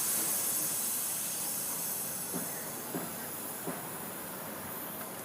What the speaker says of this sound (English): So we'll wait for that to vent.